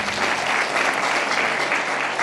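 A church congregation at a sermon claps loudly and steadily, a dense, continuous wash of applause from many hands that fills the whole clip without a break.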